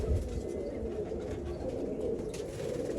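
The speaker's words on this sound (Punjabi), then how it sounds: "ਦੇਖੋ ਯਾਰ ਕਬੂਤਰ ਕਿਵੇਂ ਆ ਕਬੂਤਰੀ ਦੇਖੋ ਕਿਵੇਂ ਖੜਦੀ" Pigeons in a loft cooing in a low, steady murmur, soft and somewhat muffled, with no talking.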